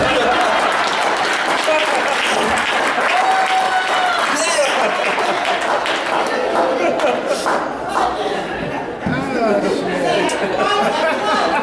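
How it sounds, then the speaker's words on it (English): Audience at a comedy show breaking into loud, sustained applause mixed with chatter and a few chuckles, filling the room steadily from start to finish. "Round of applause for this bitch, you know?"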